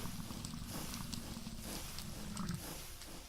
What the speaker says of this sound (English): I just like hearing the purring sound of the cat.